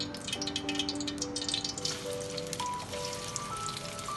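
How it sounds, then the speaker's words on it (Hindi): Onions browning in about a cup and a half of hot oil in a well-heated pan give off a steady, dense crackling sizzle throughout, close and continuous, with faint tonal background sounds and no talk. "पैन मेरा अच्छा सा गर्म है। इसमें मैं प्याज ब्राउन कर लूँगी।"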